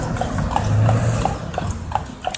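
Hooves of a Belgian draft horse, a working horse at a pool in downtown Branson, clip-clop in a steady, fairly close rhythm over a low rumbling background.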